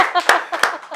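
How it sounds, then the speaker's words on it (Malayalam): Three sharp handclaps land in an even rhythm, close and loud, mixed with singing voices. "കയ്യടിക്കലാ"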